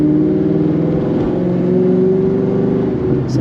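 A car engine hums steadily while driving, a loud close drone with a low rhythmic throb that holds even throughout, with no talk over it.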